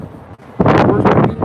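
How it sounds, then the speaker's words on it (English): Strong wind gusting against a high hotel room window in Las Vegas, a loud, rough buffeting roar that swells sharply after a brief lull. "It got really windy here in the last 30 minutes."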